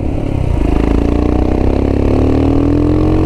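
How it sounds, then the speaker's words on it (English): A Royal Enfield Himalayan motorcycle with a big bore kit and Tec cam revs up, its throbbing engine note climbing steadily in pitch, loud and close throughout with no speech. "engine is quite a bit smoother than it was last time. It still has all the power, but now it has you can modulate the throttle better, more responsive"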